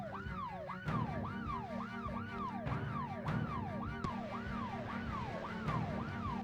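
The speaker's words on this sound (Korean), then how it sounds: "주차장 차의 시동을 걸고 사이렌을 울려 지상의 좀비들을 모조리 소각했습니다" In the video game Cataclysm: Dark Days Ahead, a car's wailing siren sweeps up and down in fast, regular cycles over a low engine rumble in a parking garage, with sharp thuds scattered throughout.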